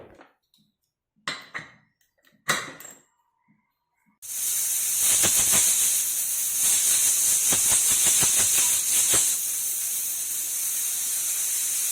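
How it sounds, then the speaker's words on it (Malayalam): After a few soft clicks, a pressure cooker cooking chicken curry lets out a loud, steady hiss of steam that continues unbroken to the end. "ഫ്ലെയിം ഓൺ ചെയ്ത് നമുക്ക് കുക്കർ അടച്ച് വെച്ച് ഒരു ഇരുപത് മിനിറ്റ് നമുക്കൊന്ന് വേവിച്ചെടുക്കാം"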